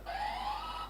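A quiz buzzer pressed during a team buzzer check at a college quiz event, giving one steady electronic tone that holds for nearly a second, fairly loud with no talk over it.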